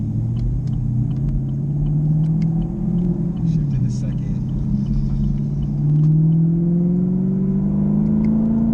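A sports car's exhaust rumbles deep and steady at idle, swelling louder near the end, while a person talks briefly over it.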